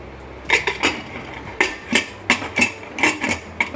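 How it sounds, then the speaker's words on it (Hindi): A series of sharp metallic clanks and clicks, about a dozen irregular knocks of a gas pressure cooker's metal lid being fitted and locked onto the pot. "अब ये गैस का कुकर को बंद कर रही हूँ"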